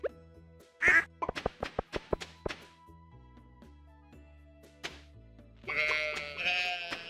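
Ducks in the farming game Stardew Valley: short nasal quacks and farm-animal calls in quick bursts over background game music, with a few thunks, no talking.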